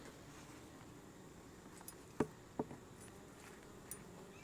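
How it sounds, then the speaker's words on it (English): Faint buzzing of honey bees in a hive box hums steadily in the background, broken by a couple of sharp clicks and taps near the middle. "Well, there's bees in it."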